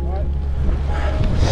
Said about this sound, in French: il y a du vent en haut là